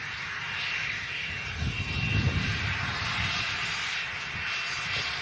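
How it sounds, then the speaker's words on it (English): A Ryanair airliner rotates off runway 23 right, its jet engines giving a steady, distant broadband roar with a low rumble that swells briefly midway. "Ryanair rotating from 23 right"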